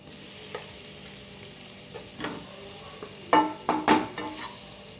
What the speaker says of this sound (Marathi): आणि हा स्मॅश केलेला बटाटा आपण याच्यामध्ये टाकून घ्यायचा आहे